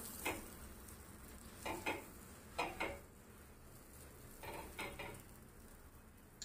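Vada pav frying in butter on a pan gives a soft, low sizzle, with a few short bursts of stirring or scraping against the pan in between and no voices.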